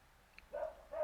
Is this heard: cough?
no